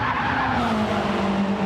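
Tires screech continuously in FlatOut, a racing video game set at a Le Mans-style track: a loud, sustained skidding squeal with a steady tonal whine over engine rumble, unbroken for the whole stretch.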